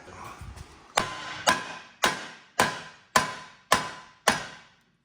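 Seven sharp metallic hammer strikes on a tire while removing the manual transmission from a 2011 Crown Vic, at a steady pace, each ringing briefly before fading, close by with no talk.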